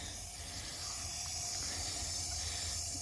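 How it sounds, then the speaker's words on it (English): A steady, close hiss of pressurised gas escaping from a valve, continuous and even throughout with no voices. "I'm sure you can hear the sizzle"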